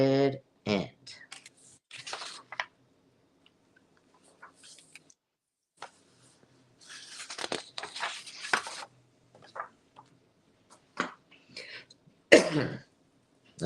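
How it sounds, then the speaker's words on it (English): A woman coughs and clears her throat during a live online sale, short sharp bursts near the start and again near the end, scattered among quiet clicks and brief speech. "Oh goodness, I just coughed"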